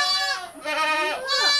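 A goat, a doe that has recently given birth, bleats in several wavering, harmonic calls on a farm, loud and close with no talk over it.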